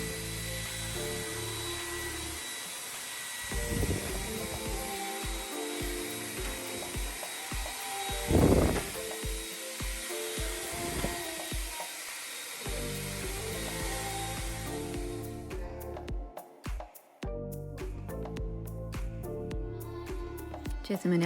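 A Dreame V11 cordless vacuum cleaner runs with a high, steady whine under continuous talking while dust is cleaned off curtains, then cuts off near the end as talk carries on.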